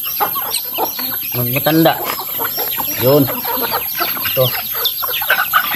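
A young bantam chicken clucks in a farmyard among other breeding fowl, short repeated clucks close by, with a steady high hiss and some talking mixed in.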